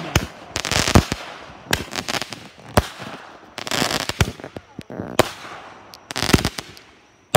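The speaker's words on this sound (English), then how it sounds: "Artillery cannons in action!" Artillery shell fireworks burst in a rapid sequence of loud booms and crackling reports, some clustered into rolling volleys, others single sharp bangs, with a voice briefly audible between blasts.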